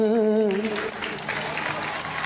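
Studio audience at a Bigg Boss grand finale bursts into applause, dense clapping and cheering rising as a voice fades out at the start.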